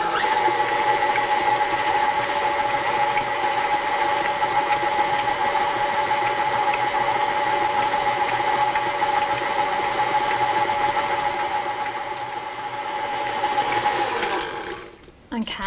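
An electric mixer at a middle speed setting beats a sugar mixture, giving a loud, steady motor whine that holds for about fifteen seconds before dipping and cutting off near the end.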